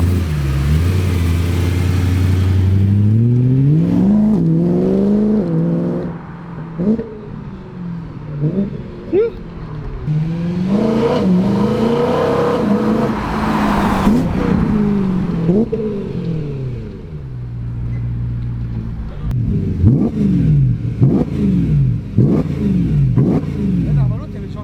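A BMW M3 fitted with a new exhaust line revs repeatedly from idle, loud and close, with sharp rising blips and deep intake roar between settling drops, while people talk over parts of it.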